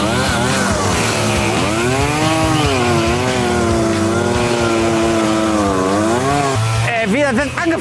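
A chainsaw cuts wood, its engine revving and whining steadily at close range, pitch swooping up and down under the load, with a voice briefly overlapping near the end.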